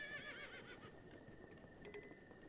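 In the video game Zelda: Breath of the Wild, a horse whinnies faintly, followed by a few light hoof clops, all quiet and somewhat distant.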